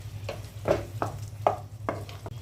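Potatoes and tomatoes fry in a pan, stirred in short repeated scrapes about every half second over a low sizzle, close and fairly quiet, with no talk.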